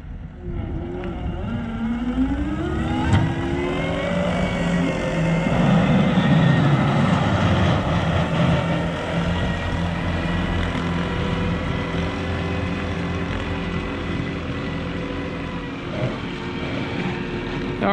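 A 331G track loader pushes snow with a new pusher box. Its diesel engine drones loud and close, revving up with rising pitch and then holding a steady, heavy hum throughout.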